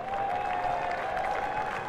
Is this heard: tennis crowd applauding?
yes